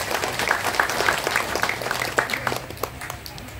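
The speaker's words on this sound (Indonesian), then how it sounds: "Saya ingin tepuk tangan, aplaus dari panjenengan untuk santri-santri kita." Audience clapping for santri students at an Islamic boarding school gathering, a steady patter of applause with a few sharper claps, moderately loud and mixed with some background voices.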